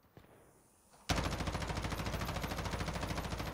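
An M4A1 fires in the video game Warzone: after a faint click and a quiet moment, a loud, sustained automatic burst of rapid, evenly spaced shots carries through to the end.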